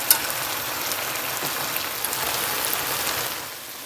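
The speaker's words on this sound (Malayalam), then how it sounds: "ഫ്രൈ ചെയ്ത് വെച്ചിരിക്കുന്ന പ്രോൺസ് ഓരോന്നായിട്ട് അതിലേക്ക് ഇട്ട് കൊടുക്കും." Fried prawns are dropped one by one into a sauce in a pan for a Kerala prawn roast, giving a steady, close, rain-like sizzle with small pops that fades slightly at the end.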